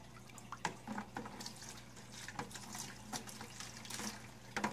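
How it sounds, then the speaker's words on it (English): Water drains from a 20-gallon long aquarium into a bucket as a quiet, steady trickle with scattered drips and splashes, close by and without speech. "I'm just gonna drain the tank."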